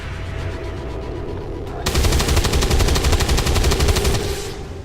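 In XCOM 2, a burst of rapid automatic gunfire erupts after a quieter lead-in, loud and close, rattling continuously for a few seconds before cutting off.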